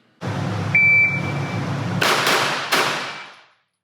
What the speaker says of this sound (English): From low ready, 3 rounds in 2 seconds.